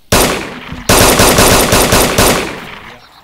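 Loud, close automatic gunfire from the video game DayZ, two long sustained bursts separated by a brief gap, with no talking.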